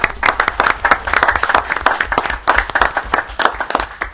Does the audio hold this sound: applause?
yes